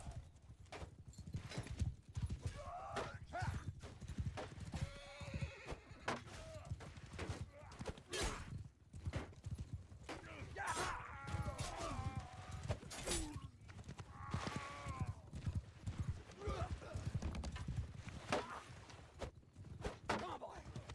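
Horse hooves clip-clop and pound amid a large multiplayer battle game event, with repeated sharp impacts, whinnies and clashing noise throughout, and voices talking over the action.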